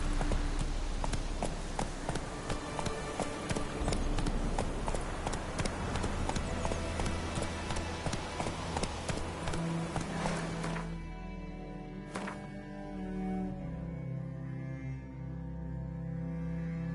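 Roach the horse gallops in The Witcher 3, with rapid, rhythmic clip-clop hoofbeats up close for about eleven seconds before the pounding breaks off and a quieter ambience remains.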